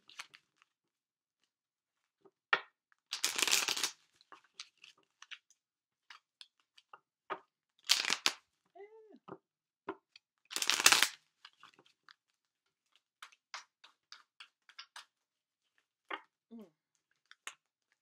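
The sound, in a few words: shuffling tarot cards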